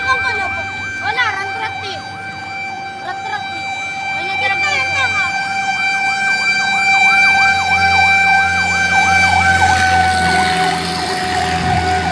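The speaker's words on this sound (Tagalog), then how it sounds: "panglima na bumbero yung dumating na yun" A fire truck siren wails loudly at a plant fire, its pitch sweeping up and down in steady cycles, with a deep engine rumble and a voice speaking underneath.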